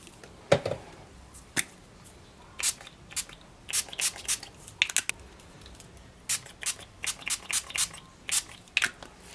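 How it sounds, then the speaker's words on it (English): Spray ink is sprayed in blues and greens onto a stencil background, heard as a series of short, sharp hissing spritzes close by, irregular at first and then in quick clustered bursts. "Let's go ahead and spray this one down with some blues and greens"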